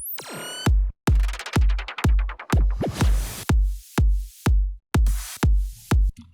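Bass house remix section built on punchy repeated impact hits with a layered burst of extra noise, each hit starting with a bright crack and a booming low tail, a steady driving pulse with a few quick fill hits.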